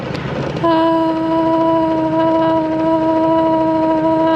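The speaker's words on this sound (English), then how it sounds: "my whole boat vibrates when the engine is going" A boat engine runs steadily, with a loud, sustained droning hum and strong tonal vibration that starts abruptly and continues without a break, close and dominant throughout.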